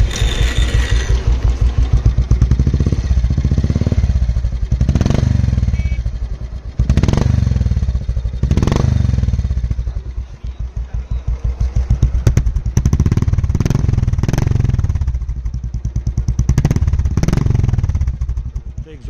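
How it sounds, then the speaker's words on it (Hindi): Royal Enfield Classic 500 with a Cobra exhaust in stock bend, carbureted, idling close by with a heavy, bassy, steady thump, punctuated by occasional throttle blips and a brief drop out, while people talk over it. "सुना भाई काफी ज्यादा भारी एग्जॉस्ट नोट है, कोबरा है ना"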